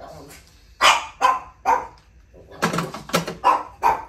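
A dog barks indoors in two bursts, three sharp barks and then a quicker run of four or five, loud and close with short pauses between them.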